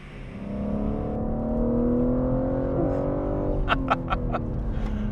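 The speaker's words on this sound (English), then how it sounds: "It's a stonker of an engine" BMW M3 Competition, 2021, with a strong engine revving up in a rising sweep, then a quick series of sharp blips and revs, close and loud, no talk.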